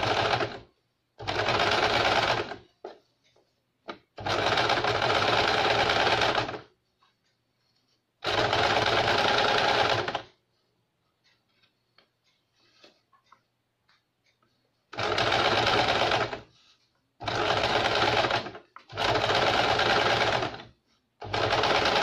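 A sewing machine stitches the back neck edge of a blouse: several loud, steady bursts of rapid mechanical whirring close by, each lasting a few seconds, separated by quiet pauses, with no voices.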